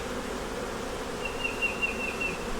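Honey bees in a productive hive, busy making honey, give off a steady, close, continuous buzzing drone with a few louder swells and no talk.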